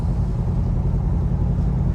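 Low, steady rumble from a Chevrolet Camaro V8 idling or cruising in first gear through town streets, heard from inside the car as a continuous deep drone without any talk.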